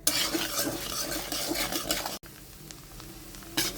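Raw rice fries in oil in a pan for a fish-head muri ghonto, with a soft sizzle under repeated scraping and stirring of a utensil, then a brief pause and quieter stirring.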